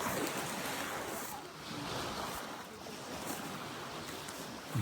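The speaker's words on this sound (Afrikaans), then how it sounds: "Dit waar die wind, die branders." Gusting wind and breaking waves on the open Makgadikgadi salt pan, a continuous roaring wash with swelling surges and buffeting microphone noise, loud and steady throughout.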